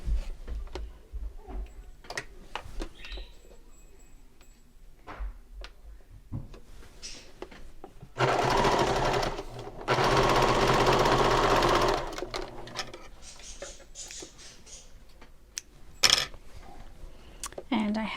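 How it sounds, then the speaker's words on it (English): A sewing machine stitches a seam on a fabric clutch with card slot pockets, running in two loud, steady bursts of rapid stitching between quiet stretches of handling clicks and taps. "I am going to sew this on following my 1/4 inch seam allowance."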